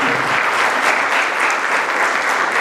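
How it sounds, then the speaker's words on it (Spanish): Audience at a formal ceremony applauding, a dense, even wash of clapping that fills the short stretch without pause. "les damos un fuerte aplauso"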